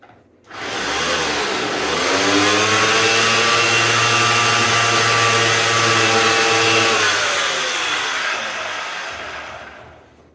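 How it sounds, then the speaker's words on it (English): A small Bosch air sander runs on wood with a steady, loud motor whine that starts abruptly and holds for about nine seconds before tapering off, with no talking. "I'm going to have to use a little air sander"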